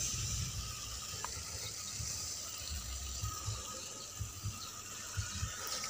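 Water streaming from a hose onto grass after fertilizing, a steady broadband hiss and splatter that holds evenly throughout, with soft low thumps from handling nearby.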